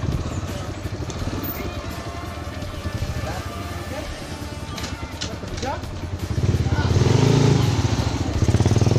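A motorcycle engine rumbles and revs nearby, growing louder toward the end, with a voice speaking over it.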